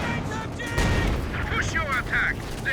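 A Gammon bomb detonates in a Company of Heroes 2 battle, a sharp, heavy blast amid scattered gunfire and rumbling combat, with a voice talking over the action.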